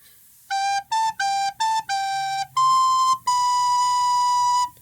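Recorder playing the second line of a Christmas song: seven clean, breathy notes, five short ones followed by two longer held tones, played close with no talking.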